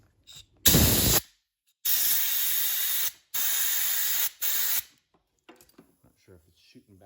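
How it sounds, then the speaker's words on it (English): Several loud bursts of carburetor cleaner spraying up close into a GP1200i carburetor, separated by short silences, followed by faint clicks and handling noise. "Now we're going to go ahead and spray in there"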